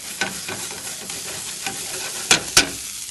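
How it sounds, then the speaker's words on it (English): Chopped walnuts toast in butter in a pan, giving a steady close sizzle and frying hiss. A few sharp stirring scrapes and clacks break in near the end, and no one talks. "We want to get them in also with the butter so that they slightly toast."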